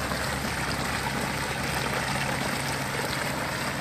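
Utility pump discharging water into a canal, a steady, continuous rush and splash of flowing water heard up close with no letup.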